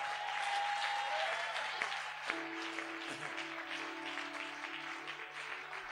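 A church congregation applauding, a sustained wash of clapping from many hands with a faint tonal hum and a low sliding sound underneath.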